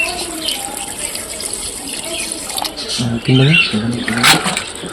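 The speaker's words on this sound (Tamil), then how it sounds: "இப்போ தண்ணி வந்து கறி முங்குற அளவுக்கு தண்ணி ஆட் பண்ணிக்கலாம்" Water splashes and pours with a broad hiss into a chicken curry gravy, while a voice talks over it and a brief louder gush rises near the end.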